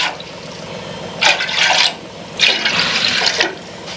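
Water poured from bowls into a pot of rice, two separate gushing pours of a second or so each, loud and close over a quiet background.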